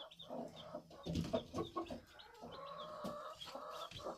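Backyard hens with their small chicks and a rooster clucking and chirping nearby, with overlapping soft clucks and short calls in an irregular stream.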